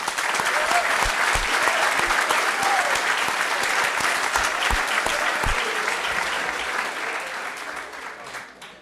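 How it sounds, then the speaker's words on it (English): A room full of people claps in sustained applause that holds steady, then gradually fades toward the end. "Give yourselves a round of applause."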